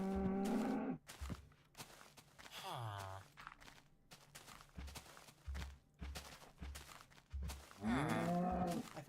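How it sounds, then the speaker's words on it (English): Cattle on an island moo loudly and repeatedly, long drawn-out calls close by with quiet gaps and soft shuffling between them. "Oh, there's another cow in there."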